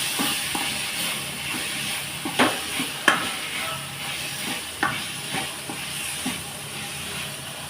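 Bitter gourd pieces fry with softened tomato in a pan, a quiet sizzle broken by several sharp scrapes and clinks of a stirring spoon, with no talking.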